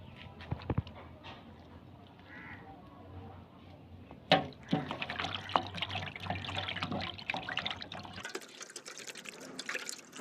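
Whole chicken pieces are rinsed under a running kitchen tap. After a few quiet seconds the water rushes on and splashes steadily over the meat, nearby and fairly loud.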